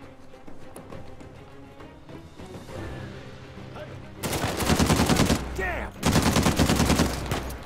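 Bursts of gunfire from a gun in the video game Uncharted 4, loud rapid automatic shots in two sustained volleys after a quieter stretch of game ambience.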